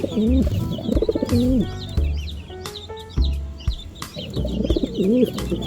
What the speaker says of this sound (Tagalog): Ating mga racing pigeons.